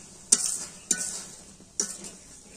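Spices are stir-fried in a pan for a river fish curry, with three scraping stirs of a utensil against the metal over a soft background sizzle.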